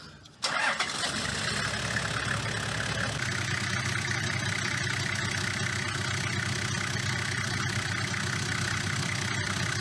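A Toyota Landcruiser engine cranks and catches, then settles into a steady idle. The running engine is close and loud, with a constant droning rumble and a slight change in tone after a few seconds.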